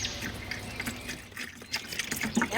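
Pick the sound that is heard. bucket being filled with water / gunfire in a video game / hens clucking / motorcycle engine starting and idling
bucket being filled with water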